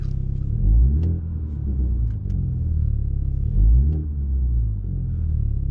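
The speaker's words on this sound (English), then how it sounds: "it makes it easier to hear the exhaust in the car" A low exhaust rumble heard inside a 2020 Mini John Cooper Works Hardtop, swelling twice as the engine revs, otherwise a steady droning hum.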